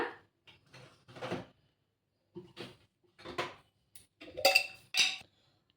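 Amaranth leaves, green chillies and moong dal batter are mixed in a bowl with a spoon, giving a series of quiet, separate clinks and scrapes of metal against the bowl, some brighter and sharper near the end.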